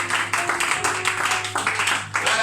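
A church congregation claps during a worship service, the hand claps coming in rhythmic bursts over a sustained tonal background, fairly loud and close, with no clear speech.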